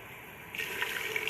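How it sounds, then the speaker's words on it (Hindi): Water pours into a cooking pan onto chopped tomatoes, a short gushing splash that starts abruptly after a quiet moment and runs briefly. "इन्हें पानी डालकर अच्छे से सॉफ्ट कर लेंगे"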